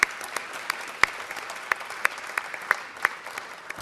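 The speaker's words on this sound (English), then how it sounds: "Give yourselves a round of applause." Audience applause at a press briefing marking a mayor's 50th inaugural anniversary: a fairly quiet room of scattered, individually distinct claps with a few sharper, louder ones, steady throughout without cheering.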